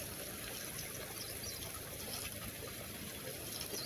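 Water streams steadily over dusty solar panels during a cleaning, a continuous hissing wash of spray and trickle with no pauses.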